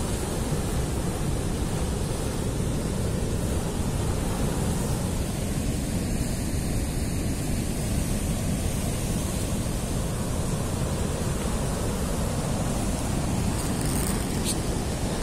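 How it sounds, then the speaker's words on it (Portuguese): Sea waves breaking on Pedrogao beach, a rocky Portuguese shoreline, as a dense, steady roar of surf, loud and continuous, with no talk over it. "Olha o mar a vir."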